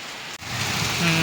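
Steady rain during a thunderstorm pattering on a hard surface, a dense even hiss with no voices.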